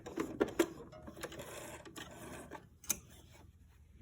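A sewing machine backstitches in reverse to lock the stitches on a fabric chicken-shaped grocery bag holder, giving a short burst of close mechanical whirring with a few sharp clicks and then a quieter tail.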